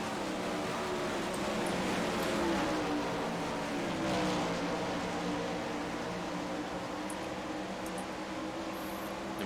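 Dirt sprint cars racing at Knoxville Raceway in iRacing, a continuous loud engine roar with shifting pitch as several cars circle the slick track together, steady and unbroken.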